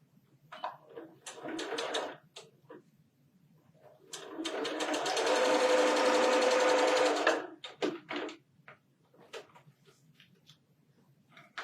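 A sewing machine stitches a quilt block for a four patch star pattern, with short bursts at first, then a steady whir of about three seconds, followed by brief stop-start runs; no talking.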